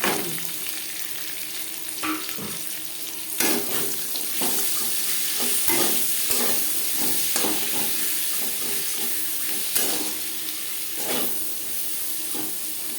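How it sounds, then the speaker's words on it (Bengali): Sliced onions fry in hot oil with a bay leaf in a wok used to fry potatoes for an aloo chicken curry, giving a steady close sizzle broken by the scrape and clatter of stirring. "পেঁয়াজ হালকা করে ভাজা হয়ে গেছে"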